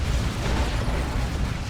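A Basilisk artillery flare shell bursts in a Dawn of War 2 match, fired for the Lord Commissar, rolling as a dense low rumble with crackling debris that stays steady and loud for nearly two seconds with no break.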